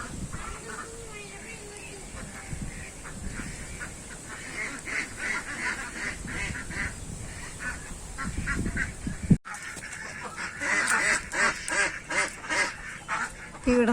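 Geese and ducks at a Bahrain farm keep up a busy chorus of honks and quacks, fairly close, with a brief break partway through and a voice speaking faintly in the background.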